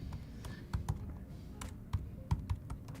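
Someone typing a word on a computer keyboard, a handful of sharp, irregular key taps spaced over a few seconds against a quiet room background, no talking.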